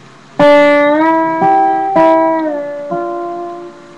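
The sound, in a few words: lap steel guitar double stops riff, finger picked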